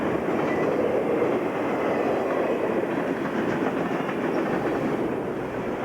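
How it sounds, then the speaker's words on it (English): A mixed freight train on the Boston & Albany line rolls past Westfield station toward Selkirk, a steady, loud rumble with clattering wheels on rail that lasts throughout. "We catch another mixed train going by the Westfield station on its way to Selkirk"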